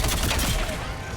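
Rapid assault rifle fire in the video game Mass Effect 3, a dense, loud burst of overlapping shots filling the whole moment without pause.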